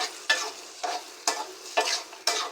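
Potatoes and hard frozen tomato pieces are stirred through hot oil in a pan, giving four or five regular scraping swishes over a steady close sizzle, with no voices.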